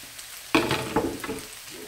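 Onions frying with potatoes in a hot pan, a soft steady sizzle with a few louder crackles and stirring scrapes, close and alone with no talking.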